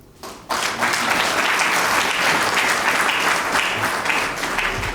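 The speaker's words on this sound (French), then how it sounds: "Une vision applaudie par tous" A crowd applauds at a ceremony marking the stock market listing of LNB shares. The clapping breaks out suddenly after a brief quiet moment and continues as a dense, loud, sustained roar of many hands.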